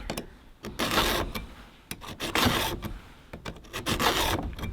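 Round file sharpening chainsaw chain teeth, a series of short scraping rasps in quick strokes with brief pauses between teeth, close and fairly quiet.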